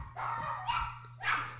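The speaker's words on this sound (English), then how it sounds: "Oh, that dog." A dog barks twice at moderate distance, two short separate barks over a low steady hum with no talking.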